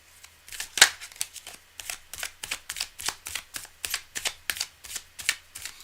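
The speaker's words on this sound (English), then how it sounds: "I'm going to do a little more shuffle" A deck of cards is shuffled over and over, making a steady run of crisp, close riffling bursts that sound at an even rhythm, with no voices.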